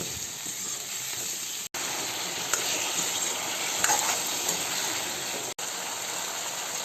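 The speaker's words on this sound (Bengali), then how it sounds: "আমি কুমড়ো ও ডাটাটাকে কষিয়ে নেব" Pumpkin and stalks sauté in a pan with a little water, giving a steady, even hiss and sizzle that lasts throughout, with two brief gaps and faint stirring clicks.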